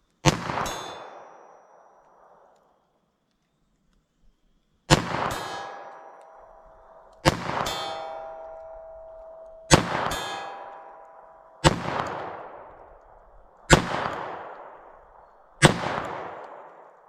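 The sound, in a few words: CCI Uppercut .22 LR rifle shots at ballistic gel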